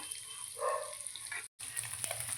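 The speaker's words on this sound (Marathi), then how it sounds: "त्याचा एका साईडनं व्यवस्थित फ्राय करून घेऊया" Rava-coated fish fries in a pan with crushed raw garlic, a soft, quiet sizzle with a brief brighter hiss, and a momentary dropout near the end.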